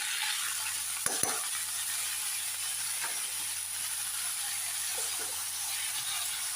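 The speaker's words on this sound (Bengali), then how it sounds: "সবজিগুলো ভাজা নিই।" Vegetables, potato and cauliflower, frying in a pan, a continuous close sizzle and hiss with a few sharp spoon clinks as they are stirred, no voices.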